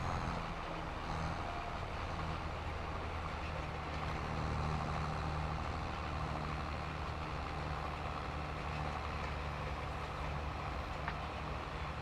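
Tractor engine in Farming Simulator 22, working a sorghum field while seeding, drones at a high, strained pitch near redline, loud and steady throughout with no break.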